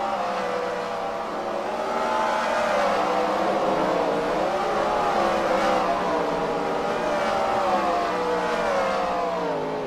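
Race cars circling the Eldora Speedway dirt oval, a steady, dense engine drone with rising and falling harmonic pitch as several cars sweep around the track at a moderate distance, with no talk.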